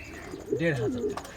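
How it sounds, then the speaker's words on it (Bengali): A yellow-faced fancy pigeon gives a short, rising and falling coo close by, a single brief phrase over low background noise with faint voices nearby. "এটা কি কবুতর বলে হলুদ মুখী"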